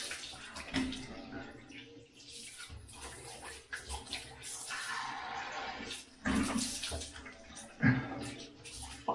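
Running water splashed over a person's head: faint, uneven gushing and splashing with intermittent louder bursts, fairly quiet overall, and some low voice sounds in the background.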